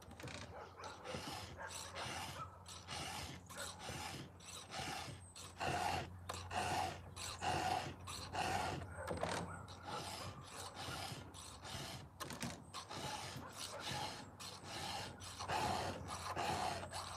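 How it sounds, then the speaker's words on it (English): A ragged edge, likely wood, is scraped by hand in short repeated rasping strokes with brief pauses between them, faint and close. "So I literally just wanna scrape through there a touch."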